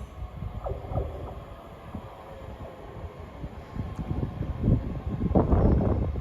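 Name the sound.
ScotRail train arriving at Haymarket station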